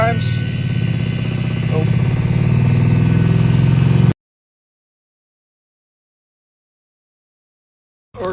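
A 13B rotary engine in a homemade dirt rail, restarted after sitting since autumn with a dead battery, idles steadily and loudly up close for about four seconds, then cuts to silence before briefly returning; a voice briefly exclaims.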